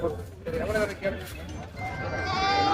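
Goats bleat at a busy livestock market, several short wavering cries rising and falling among loud crowd chatter and people talking nearby.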